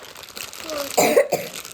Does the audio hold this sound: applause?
no